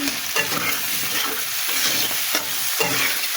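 Tengra fish seasoned with turmeric and salt sizzles in hot oil in a pan, a steady crackling hiss broken by a few stirring scrapes, close and moderately loud with no talking.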